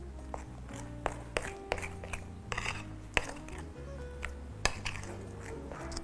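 A utensil beating a mixture in a bowl while cooking, with irregular clinks and taps against the dish that are fairly close and moderately quiet.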